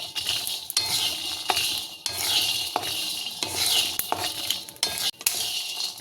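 Spices and broad bean pieces lightly frying in a pan for chikkudukaya masala curry, with a steady sizzle and repeated scraping, clinking stirs of a metal spoon close by.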